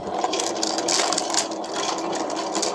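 A battery-powered toy washing machine for doll clothes runs with a steady, close whirring motor drone, no speech over it.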